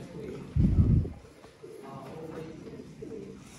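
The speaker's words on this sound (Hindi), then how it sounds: "ये होते हैं दोस्तों ब्रांड कबूतर।" Pigeons kept as pet breeding birds give one loud, throaty coo close by, followed by softer, lower cooing in the background.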